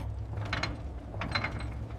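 Machinery in a lighthouse machine room at midnight clicks and ratchets over a low steady hum, with metallic ticks and gear-like clatter coming in short clusters, fairly close and moderately quiet, no talking.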